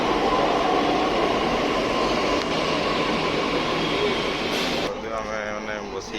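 A Delhi Metro train on the Yellow Line arriving, a steady loud rumble and rolling roar that shifts near the end as it slows, with speech over it.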